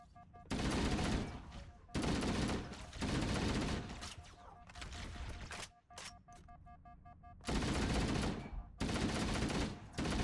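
Bursts of gunfire from Halo: Combat Evolved rattle in loud rapid volleys separated by brief lulls, several sustained automatic strings echoing over game sounds and a steady tonal hum.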